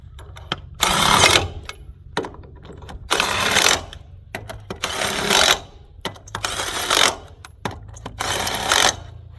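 An impact wrench tightens trailer wheel lug nuts in a star pattern, firing in about six loud, rattling bursts separated by short pauses and faint clicks.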